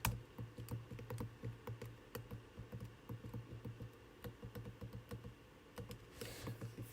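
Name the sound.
computer keyboard key presses, Ctrl+D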